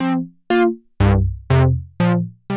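A modular synthesizer plays six evenly spaced notes through a resonant filter with a normal envelope, each a bright, harmonically rich pluck that decays quickly before the next, heard alone with no talking.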